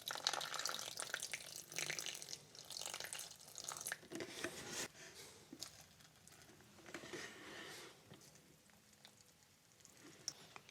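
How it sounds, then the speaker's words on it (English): Water pours and splashes unevenly into the soil of potted succulents, trickling and pattering in bursts, close and fairly quiet. "I try to water thoroughly, maybe 2 times when the water gets in, then 1 more time."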